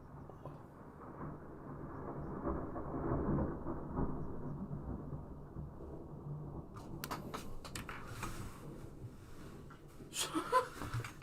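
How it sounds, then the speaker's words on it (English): A long, low thunder rumble swells and rolls for several seconds, then fades, leaving faint crackles and small bursts near the end; distant-sounding and fairly quiet overall. "That was thunder."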